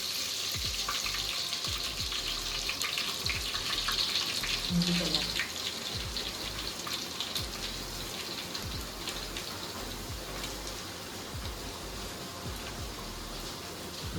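Garlic frying in oil for a Konkani-style spicy crab curry, a steady dense crackling sizzle with a brief bubbling burst partway through, continuous and close throughout.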